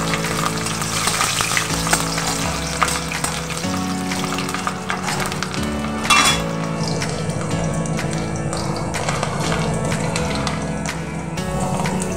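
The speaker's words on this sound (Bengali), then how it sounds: "এবার আমি ফোড়নে কালো জিরে দেব, দিয়ে দেবো ক্যাপসিকাম" Black cumin seeds and chopped capsicum frying in hot oil for a tempering while making methi paneer, a steady loud sizzle with stirring scrapes throughout, no voices.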